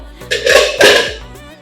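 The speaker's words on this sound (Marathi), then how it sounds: "हा डब्बा आहे ना हा कुकरमध्ये ठेवून घेते" Metal clanks and scrapes close by as a metal tin is lowered into a preheated pressure cooker with its ring and whistle removed, giving two louder clattering bursts that ring briefly.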